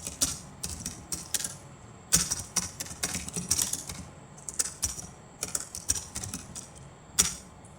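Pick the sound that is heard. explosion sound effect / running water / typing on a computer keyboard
typing on a computer keyboard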